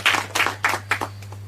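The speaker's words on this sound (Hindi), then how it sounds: "एक बार जोरदार ताली हो जाए उनके लिए" At a junior quiz show, a few sharp hand claps ring out for a contestant, starting briskly and quickly thinning to scattered fading claps over a low hum.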